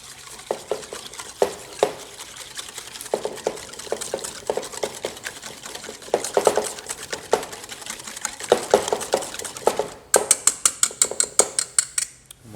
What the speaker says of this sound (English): And then we're just going to mix this up.